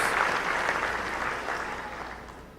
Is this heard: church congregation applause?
yes